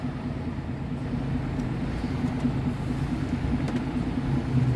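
Mercedes truck with a semi-trailer reversing, a steady low diesel engine drone with a faint whine, constant and close throughout.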